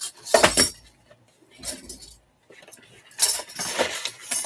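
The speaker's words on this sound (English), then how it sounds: "And then I found some interesting silverware." Pieces of silverware are picked up and handled, giving bright metallic clinks and jangles in a few separate bursts with quiet pauses between them.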